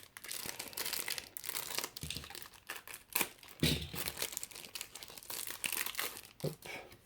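Packaging from a small Anachrony board game expansion being unwrapped: close, continuous crinkling and crumpling with sharper tearing bursts throughout, and no talking.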